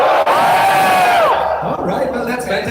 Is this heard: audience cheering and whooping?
yes